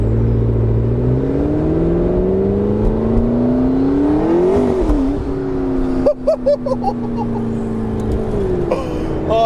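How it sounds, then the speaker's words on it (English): A McLaren 650S Spider convertible driving with the roof off, its steady engine and exhaust drone rising and falling through gear changes. Turbo whoosh and a few sharp chuffs come in near the end, with no voices. "You hear the wind, you hear the exhaust, you hear the turbo"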